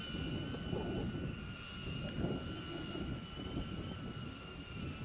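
A DJI Avata FPV drone in flight gives off a constant buzzing whine of spinning propellers with steady tonal hum, heard moderately close and holding level throughout with no talk.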